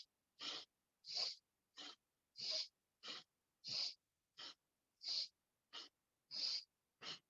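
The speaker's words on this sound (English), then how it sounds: "Breathing into the left, breathing out to the right." Rhythmic yogic breaths from a Kundalini yoga practice, about a dozen sharp even in-and-out strokes through the nose, close and alone with silence between each.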